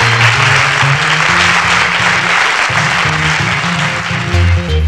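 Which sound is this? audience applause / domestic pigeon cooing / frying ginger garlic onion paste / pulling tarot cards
audience applause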